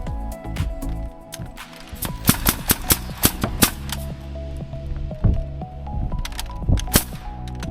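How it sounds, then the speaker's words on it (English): Nail gun firing repeatedly as homemade wooden pieces are fastened into a wall during a DIY house build: a series of sharp, loud pneumatic cracks in irregular bursts, close by, over a busy background. "I'm using a nail gun and then nailing them into my wall"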